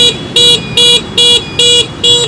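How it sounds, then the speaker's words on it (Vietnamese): Horn of a DIBAO Pansy S2 electric scooter sounding five short, evenly spaced electronic beeps, loud and close, alone without talk. "Để cho anh em nghe tiếng còi nè"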